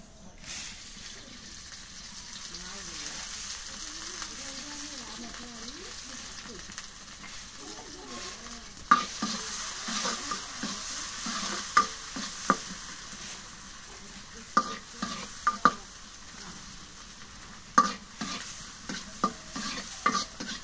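Spices frying and being stirred in hot oil in a pan during Bengali home cooking: a soft, low sizzle with scraping, punctuated in the second half by sharp spoon-against-pan clicks and knocks, fairly quiet and close.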